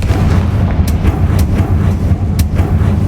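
A Confringo spell explodes in the video game Hogwarts Legacy, a loud, sustained rumbling blast heavy in low end with a few sharp crackling transients and no talk.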